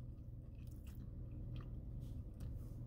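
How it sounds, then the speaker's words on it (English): Close, quiet chewing of a crunchy Popeyes fish sandwich, with soft rhythmic bites and crunches over a steady low hum. "It has a crunch to it"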